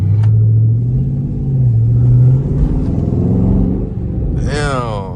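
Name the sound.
Dodge Charger Scat Pack with custom exhaust revving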